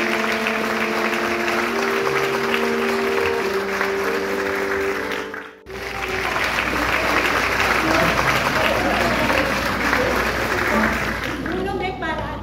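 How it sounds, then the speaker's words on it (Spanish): Theatre audience applauding the actors of an independent stage play, a dense, steady wash of clapping that runs loud throughout, briefly dipping near the middle before resuming with crowd noise and some tonal sounds underneath. "aplauso para ellos"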